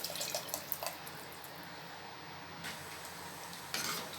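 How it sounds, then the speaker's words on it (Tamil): Tamarind water pouring into a simmering fish curry masala, a steady soft liquid splash close up with a few small clinks, no voices. "இப்போ ரெடி பண்ணி வச்சுருக்க புளி தண்ணி இதோடு சேர்த்துக்கலாம்"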